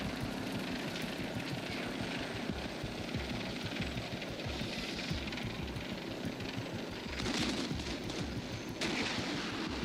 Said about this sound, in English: There is a hostile helicopter operating east of your current position.